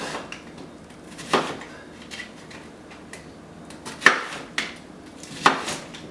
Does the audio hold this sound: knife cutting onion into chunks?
yes